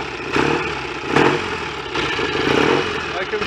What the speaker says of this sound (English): at the moment, the engine sounds all right